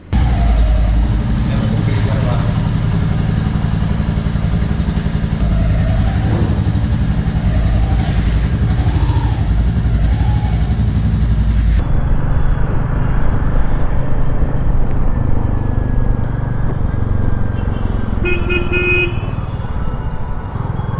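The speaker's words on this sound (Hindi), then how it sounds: "इसके अगले शोकर के आसपास से कहीं से आवाज़ आ रही है, जो स्टार्ट करने पे आती है" A Royal Enfield Meteor motorcycle running continuously up close with an extra noise from near the front shock absorber, amid street traffic with a brief horn toot toward the end.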